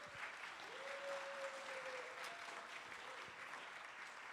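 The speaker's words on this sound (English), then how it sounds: "giving them a round of applause" A church congregation at a Sunday service applauds to welcome first-time guests, a steady, even wash of clapping heard from a distance, with a faint voice briefly rising over it.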